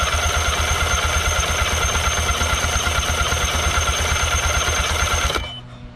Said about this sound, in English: let the motor crank up, and basically what it's gonna do is test the compression pretty much